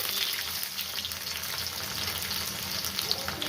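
Onions frying in a pan give a soft, even sizzle and crackle, fairly quiet and continuous, with no one speaking.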